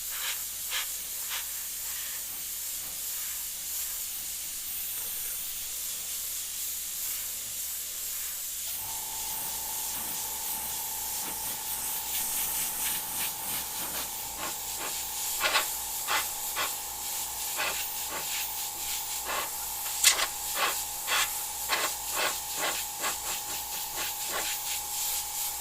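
An airbrush sprays paint for a sea turtle design in a steady, continuous airy hiss. A second, higher steady tone joins partway through, and faint ticks and rubbing sit under it. Nobody talks.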